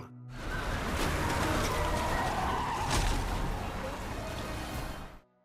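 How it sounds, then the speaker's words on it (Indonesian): A car tearing away with tire skid noise in the film Mortal Kombat (2021), loud and continuous throughout, with a rough, noisy engine and tire rush and no speech. "Beruntung Jack datang tepat waktu, lalu membawa mereka menggunakan mobil."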